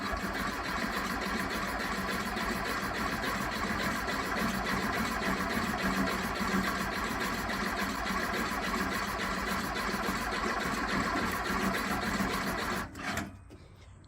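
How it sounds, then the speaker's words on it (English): The engine of a 1969 VW Beetle that won't run cranks steadily and continuously for about thirteen seconds, then cuts off abruptly. "Now we're going to give her a shot right now. See if she cranks up."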